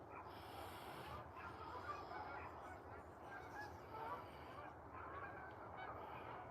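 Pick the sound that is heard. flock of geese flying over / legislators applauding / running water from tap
flock of geese flying over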